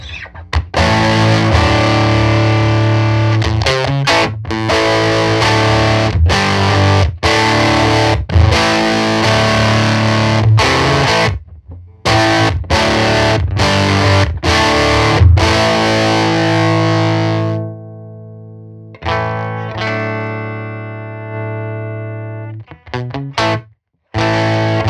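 Loud distorted electric guitar from a Scythe Guitars OH20 on single coils through a Benson Benmaster amp plays driving chords and riffs, with short breaks, a pause, then sustained ringing notes and a few final stabs.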